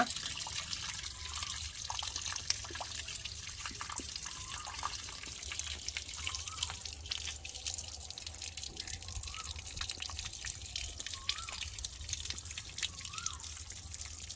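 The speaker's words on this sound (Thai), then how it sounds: "เปิดน้ำเก่าทิ้งก่อนนะครับ นี่นะครับเราปล่อยให้น้ำออกให้หมดนะ" Old coolant drains from the radiator of a Mitsubishi Strada 4WD as a steady trickling flow with occasional distinct drips, heard close and continuous throughout.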